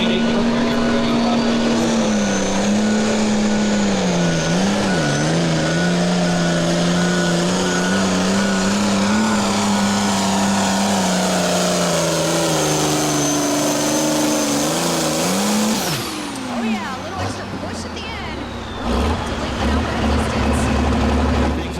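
A pulling tractor roars through a tractor pull run, a loud sustained engine howl with wavering pitch that rises and dips for about fifteen seconds before cutting off into fainter crowd and track noise.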